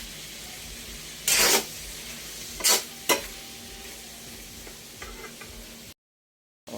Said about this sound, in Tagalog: haluin po muna natin yan